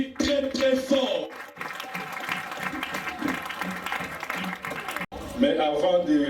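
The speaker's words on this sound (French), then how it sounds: "le docteur Mayuma, qu'on applaudit très très fort" An audience in a hall applauds loudly for Doctor Mayuma, vice-president of the national order of physicians, at an association's official launch. The clapping is steady and sustained under an announcer's amplified voice, which speaks throughout.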